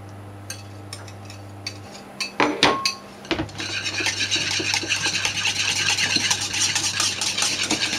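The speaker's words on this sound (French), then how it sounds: "nous allons y ajouter nos 3 jaunes d'œufs et utiliser le fouet pour battre la crème" Three egg yolks being whisked into warm lemon cream for a lemon tart: a few light clicks and a clatter, then a continuous rhythmic scraping whisk against the bowl, close and fairly loud.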